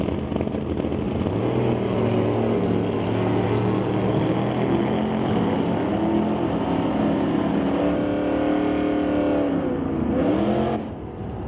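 Drag race cars, including a Chevy, accelerate down the strip at a Super Pro race, loud sustained engine roar with rising, shifting pitch, then cutting off sharply near the end.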